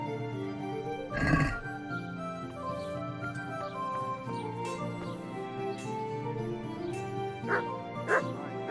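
A pet dog in a streamer's room gives a short yip or bark, then a couple of fainter yelps later, under a steady background hum of game audio.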